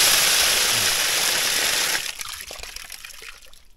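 Water from a pump runs through a newly fixed pipe into a garden pond, a bright rushing splash that suddenly drops to a softer, uneven trickle with small drips.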